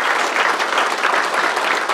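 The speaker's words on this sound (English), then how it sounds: "A little applause for all of you." A short burst of audience applause at a 2023 city State of the City presentation, steady and dense with many people clapping together, close and fairly loud throughout.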